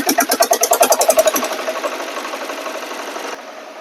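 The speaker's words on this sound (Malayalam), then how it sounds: "നമ്മളിവിടെ ക്രാങ്ക് ഷാഫ്റ്റിനെ നല്ലപോലെ ക്രാങ്ക് ചെയ്തിട്ടാണ് എഞ്ചിൻ സ്റ്റാർട്ട് ചെയ്യുന്നത്." A single-cylinder diesel engine catches after cranking, with loud, rapid rhythmic knocking that settles into a steadier, quieter running beat, then drops slightly near the end.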